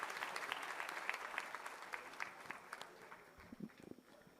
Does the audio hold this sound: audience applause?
yes